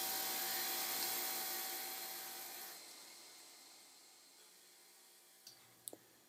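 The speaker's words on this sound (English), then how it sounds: "I will grind the edges, making sure that everything fits as good as possible" A grinder smooths the edges of stained glass with a steady whirring hum that winds down and stops partway through, followed by a few small clicks and taps in the quiet.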